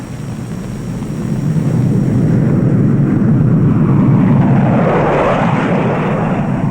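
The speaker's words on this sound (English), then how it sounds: "Request permission for a low pass over the field." USAF Thunderbirds F-100 Super Sabre jets sweep low over an airfield, a deep, broad roar swelling up and holding loud and close for several seconds.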